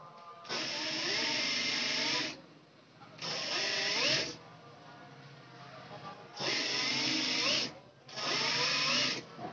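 A sewing machine stitches piping dori onto a blouse in four steady whirring runs of about one to two seconds each, separated by short pauses, and no voice is heard.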